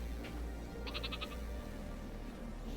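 A sheep in the Worms WMD video game gives a short, stuttering bleat, a brief burst of rapid pulses over steady game background sound.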